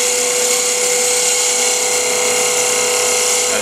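A woodturning tool cuts into spinning wood on a lathe, giving a loud, steady, high-pitched whine with a constant hiss that never lets up.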